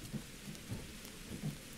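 Steady rain pours in the irori video game while low thunder rumbles softly through a short stretch, with no talk.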